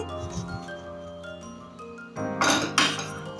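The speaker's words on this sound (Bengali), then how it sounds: "তেলটাকে ভালো করে ফ্রাই প্যানের গায়ে লাগিয়ে নিচ্ছি" Mustard oil spread around a frying pan with a utensil, heard as clinks and scrapes of metal against the pan, growing into louder, rougher scraping near the end.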